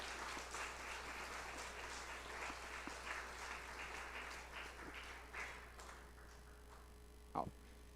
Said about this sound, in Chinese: 好了，掌声已经有了啊